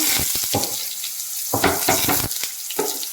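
Crushed garlic, shallots and chilli fry in a hot pan with a bright, hissing sizzle. The sizzle swells and fades in bursts as the mix is stirred, close up with no voices over it.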